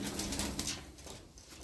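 Fancy pigeons, including Baska, Bango, Dönek, Çorum Çıplağı and Hünkari breeds, coo softly nearby in a loft in Darıca, with low murmuring calls and a faint rustle of wings.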